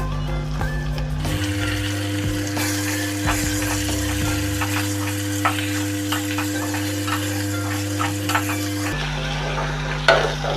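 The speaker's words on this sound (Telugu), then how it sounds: "ఆయిల్లో ఫ్రై అవుతుంది కదా" Washed lentils (dal) with turmeric sizzle steadily in hot oil, a continuous close frying hiss broken by stirring scrapes and clicks, with a low hum running underneath.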